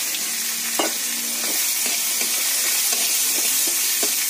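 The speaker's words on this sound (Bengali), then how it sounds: "নিয়ে পেঁয়াজটা একটু ভালো করে ভেজে নেব।" Chopped onion frying with cumin in a pan, giving a loud, steady hissing sizzle with a few light taps of a stirring utensil scattered through it, close and continuous.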